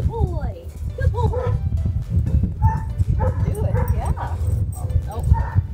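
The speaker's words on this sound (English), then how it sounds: "This is the dog that will not climb the stairs." A dog reluctant to climb RV stairs gives short yips, whimpers and barks, close and intermittent, under ongoing human talk and encouragement.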